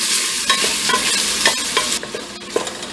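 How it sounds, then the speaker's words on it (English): Spicy Andouille-style New Orleans sausage frying in a pressure cooker pot, a loud dense sizzle with repeated utensil scrapes and clanks as the pieces are stirred, close up with no voices. "after cooking my sausage for about 2 minutes"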